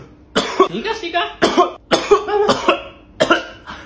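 A series of five loud, harsh coughs spaced about half a second apart, close up, with a brief spoken word among them.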